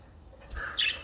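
A pet parakeet gives a brief close chirp and squawk, a bright burst rising near the end of a short moment with no talk.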